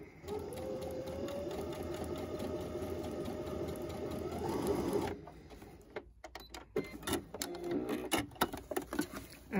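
Sewing machine stitching cloth for a face mask, a steady close whirring hum for about five seconds that rises slightly, then stops, followed by clicks and handling of fabric.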